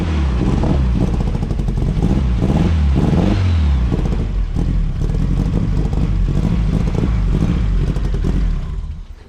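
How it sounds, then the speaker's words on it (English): Engine of a 300 hp budget-build Ford Fiesta Mk2 running on a dyno with a misfire, a loud, rough, uneven revving drone with stuttering pulses, sustained before cutting off at the end. "Got a bit of a misfire, we need to put some plugs in it."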